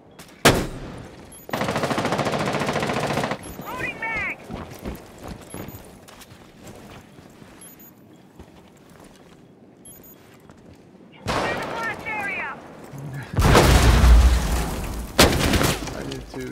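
Gunfire from Rainbow Six Siege on the Chalet map comes as loud sustained automatic bursts at the start and end, with scattered shots, thuds and footsteps in between.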